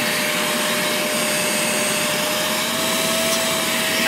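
A homemade bee vacuum runs continuously, a loud, close, steady motor whine with rushing suction air and a faint constant tone, and no talk over it.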